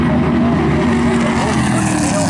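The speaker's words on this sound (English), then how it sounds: "Race car." Valenti Modified race car at full throttle during a heat race at Monadnock Speedway, a loud continuous engine roar holding steady and close throughout with dense mechanical drone.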